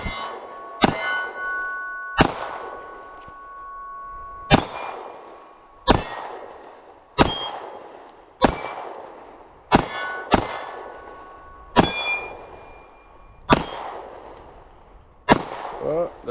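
A Springfield Armory Hellcat pistol fires at a range, about eleven sharp, loud shots at uneven intervals, each followed by a bright metallic ring from steel targets that decays slowly.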